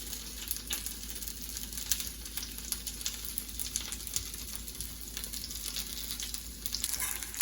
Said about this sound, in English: This is nicely sauteed.